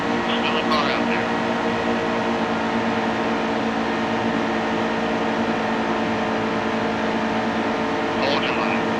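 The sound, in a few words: car engine in a racing video game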